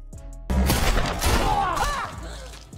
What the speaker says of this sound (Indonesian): Sean yang berhasil melumpuhkan ayahnya, kembali beradu tembak dengan Michelle.